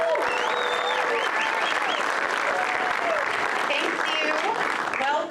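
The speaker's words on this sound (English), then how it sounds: "Please, a big round of applause for Christy Norland." An audience at a theater group's inaugural performance claps and cheers in dense, steady applause that fills the room throughout, with whoops and voices mixed into the crowd noise.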